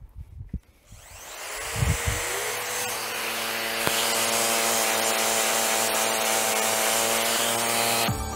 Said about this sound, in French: Vous allez voir la différence quand j'utilise un aspirateur avec la Rotex.